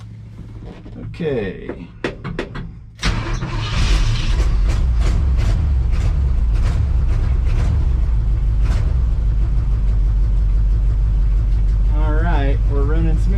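A 1962 Chevrolet C10 pickup's engine cranks briefly and catches after a few seconds, then settles into a loud, steady running rumble close by; a voice speaks briefly just before it fires.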